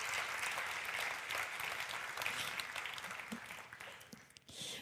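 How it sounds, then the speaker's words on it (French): A church congregation claps together at a fairly distant, roomy level, a continuous wash of applause that thins and fades toward the end, with no speech over it. "vous pouvez applaudir le Seigneur pour ça si vous croyez qu'il va faire la même chose pour vous"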